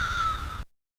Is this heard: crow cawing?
yes